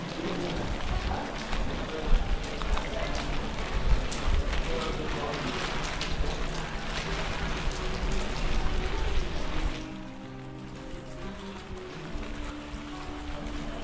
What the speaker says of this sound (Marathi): पाऊस पडतोय, वरती ढगाळवरूनच तुम्हाला अंदाज आला असेल काय परिस्थिती आहे ती।